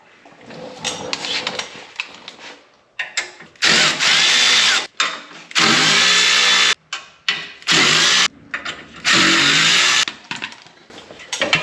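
An impact-type power tool removing exhaust bolts from a Ranger XD 1500 frame, loud repeated whirring bursts of a second or so, with quiet pauses and clinks between them.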